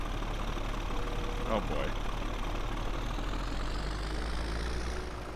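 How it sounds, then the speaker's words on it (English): A tractor engine idles steadily in Farming Simulator, giving a continuous low rumble at moderate level, with a brief voice exclamation heard over it. "We needed a bigger tractor to pull this load."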